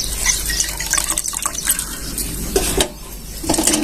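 Salted water splashes and trickles as it is poured out of soaked bitter gourd, with a brief gap before more splashing.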